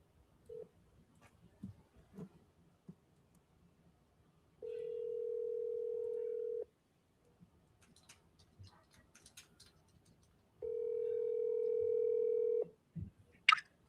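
A telephone number being dialed, short beeping tones and clicks scattered between two long steady dial or ringing tones, heard alone with no voices.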